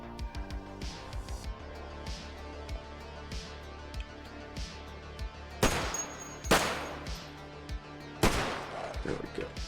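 Rapid gunfire from the zombie survival game Cataclysm Dark Days Ahead cracks in quick bursts, with several louder, heavier blasts standing out among repeated shots over a steady low drone.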